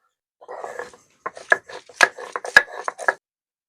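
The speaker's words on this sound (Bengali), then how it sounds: "এখন এইগুলো উঠিয়ে নিয়ে কাঁচা লঙ্কা বেটে নেবো" Green chilies are crushed on a grinding stone, a quick series of close, rough rubbing and knocking strokes in uneven rhythm, with short gaps between them and nothing in the background.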